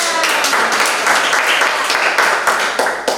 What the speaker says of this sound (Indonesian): Iya, tepuk tangan dulu.